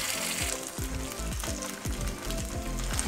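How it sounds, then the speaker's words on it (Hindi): Coarsely ground sweet corn fries in ghee in a pan for a halwa, giving a steady, close sizzle with faint scraping from stirring. "अब उसी घी में हम ये जो हमने कॉर्न दरदरे पीसे हैं ये डाल देंगे सारे।"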